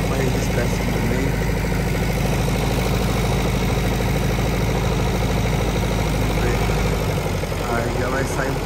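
Tractor engine rumbling at the start of a corn silage harvest, a loud, close, steady heavy drone with vibration that continues for the whole stretch, with a voice talking over it.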